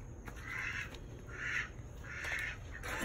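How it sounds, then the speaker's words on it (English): Ducks calling from a backyard duck house in the morning, several repeated honking bursts about once a second, moderately close, with steady outdoor background noise. "You can hear the other ducks."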